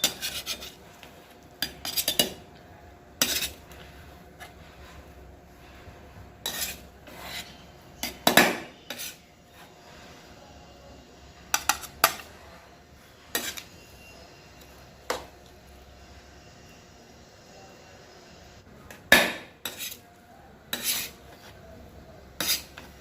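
A spoon scrapes and clinks against a pot while chicken pulao is dished out, with sharp, irregular metallic knocks spaced across a quiet kitchen background, no talking.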